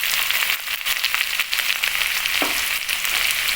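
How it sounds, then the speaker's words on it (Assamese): Chopped onions fry in a pan for dal tarka, a loud, close, even sizzle with a brief stir near the end. "পিঁয়াজখিনি অলপ ফ্ৰাই কৰি ল'লোঁ"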